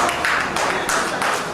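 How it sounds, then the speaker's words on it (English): Audience clapping at a journalists' union gathering, a dense, continuous round of applause from many hands, steady and fairly loud throughout with slight surges. "So you can clap again."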